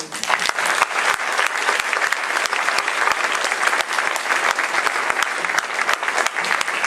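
An audience delivers a warm round of applause honoring a judge and Kathy McCarroll, sustained, even clapping from many hands with crisp individual claps throughout.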